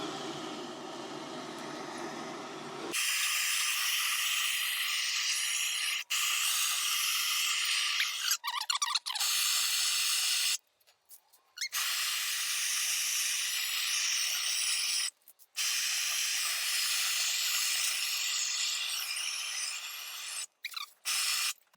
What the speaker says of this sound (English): All right, torch it up. You can see it instantly seared.